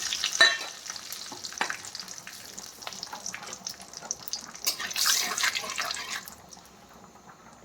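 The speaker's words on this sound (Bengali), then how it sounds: "এখন আমি দিয়ে দিচ্ছি এই যে জিরে, কালো জিরে আর একটা লঙ্কা আর একটা তেজপাতা, এগুলো দিয়ে দিলাম" Cumin, nigella seeds, a chili and a bay leaf sizzle and crackle in hot oil for a tempering, with a steady frying hiss and occasional stirring clinks close by.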